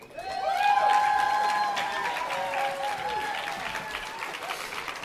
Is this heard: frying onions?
no